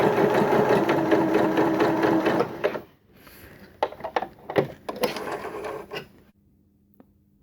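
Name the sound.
sewing machine stitching a row with a long stitch length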